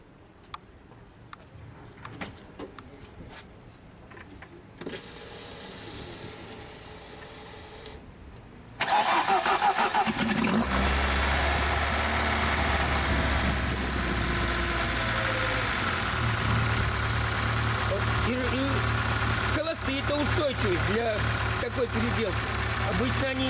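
A carburettor-style engine on a homemade machine cranks and catches at about nine seconds, then settles into a loud, steady idle with a low droning hum, after quieter handling noises and some background voices.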